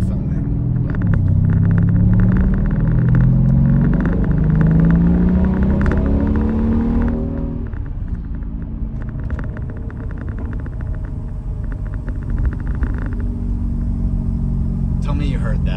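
A Mercedes SL550 R231 with its exhaust cutouts open, accelerating uphill: a loud, close, continuous rumbling exhaust with rising engine tones, easing to a steadier drone partway through.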